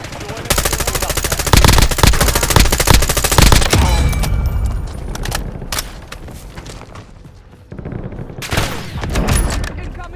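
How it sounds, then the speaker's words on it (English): Rapid automatic M4 and Kilo 141 gunfire in a Warzone battle royale match, loud sustained bursts with short pauses, then scattered shots and impacts, while a game voice calls out in the background. "Incoming fire!"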